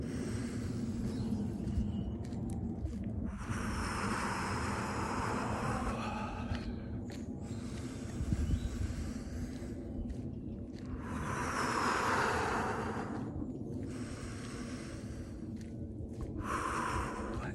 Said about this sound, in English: Instead, take 3 deep, slow breaths.